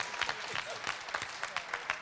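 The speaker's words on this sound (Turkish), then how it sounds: "alkış" Applause from a studio audience at a Popstar talent show, a steady patter of many hands clapping at moderate distance, with a voice faintly heard through it.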